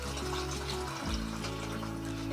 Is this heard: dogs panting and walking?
no